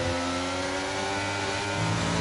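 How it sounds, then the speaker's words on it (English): A race car engine in a sim racing game holds a loud, steady, droning note that shifts slightly in pitch as the car exits a corner at Abu Dhabi, with no voices over it. "You could hear the engine note change just a little bit at corner exit without feathering the throttle, trying to make sure he maintained traction"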